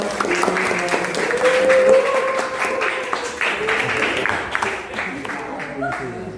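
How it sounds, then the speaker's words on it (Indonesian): An audience at a talk show debate claps in a steady wash of applause lasting several seconds, moderately loud, with a voice speaking over it. "beri tepuk tangan yang meriah untuk saudara Anda"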